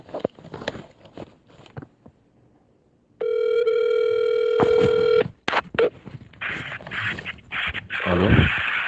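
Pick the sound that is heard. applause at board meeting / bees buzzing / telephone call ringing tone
telephone call ringing tone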